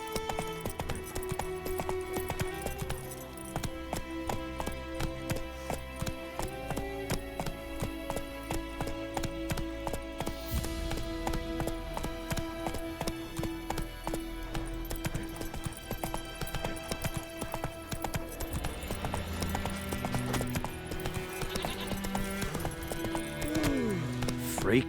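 Galloping horse hooves from the video game The Witcher 3: Wild Hunt on PS5, a continuous rhythmic clip-clop under game music, with occasional snorts and a voice speaking now and then.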